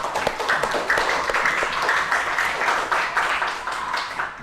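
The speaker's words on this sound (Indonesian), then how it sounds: "beri tepuk tangan semuanya untuk kalian" A classroom of students clapping their hands together in steady, continuous applause, close and loud, with many overlapping claps holding at an even level before tapering slightly at the end.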